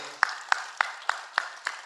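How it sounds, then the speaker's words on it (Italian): Hand clapping at a band concert: six sharp, evenly timed claps in quick succession, crisp and fairly close, with no other sound around them. "volevo un applauso da parte vostra per cotanto impegno e amore per la musica"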